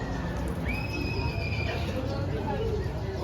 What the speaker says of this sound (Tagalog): Ayan, mga kabayo bossing,